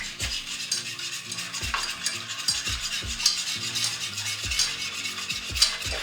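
A spoon works steadily through a strawberry gelatin mixture in a pot, giving repeated clinks and scrapes at an even rhythm, close and fairly loud over a soft hissing background.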